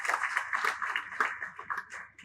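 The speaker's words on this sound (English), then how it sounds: "Applause for Mr. Manning in his absence." Applause at a formal awards ceremony, a crowd's clapping steady and moderately loud, then fading out near the end before a low thump.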